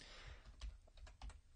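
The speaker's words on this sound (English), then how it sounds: "just go ahead and hit backspace on your keyboard" A few soft, close key presses on a computer keyboard, including backspace, tapping in an irregular rhythm over a faint background hiss.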